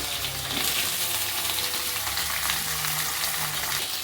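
Cut potatoes go into hot fish oil and fry with a steady, dense sizzle, close and moderately loud, and no voices are heard.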